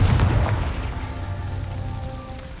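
A Confringo spell explosion in Hogwarts Legacy erupts in a loud, low boom at the start, then rumbles and fades over a couple of seconds with a faint ringing tail.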